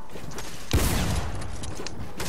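Gunfire rings out in the battle royale video game Fortnite: a single short, sharp burst of shots breaks through quiet in-game ambience.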